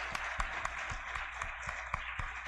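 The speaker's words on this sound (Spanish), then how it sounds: "yo creo que hay que darle un aplauso acá a nuestras invitadas" Sparse, soft applause from a small audience at an evening panel on women in mining, with a handful of distinct claps standing out at uneven intervals over a quiet room.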